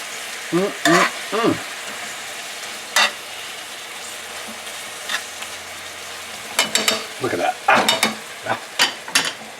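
Pork loin chops cook in an apple miso caramel sauce, giving soft bubbling and sizzling under a series of sharp scrapes and taps from a utensil in the pan.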